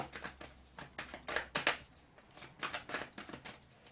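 Tarot cards shuffled by hand in a quick run of crisp, riffling slaps and flutters, close and fairly quiet, with no speech over them.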